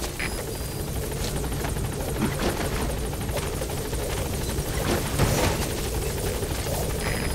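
In Metal Gear Solid V: The Phantom Pain, a helicopter thrums continuously as it gains altitude, its rotor wash forming a steady, loud drone with faint chopping pulses and slight swells in volume.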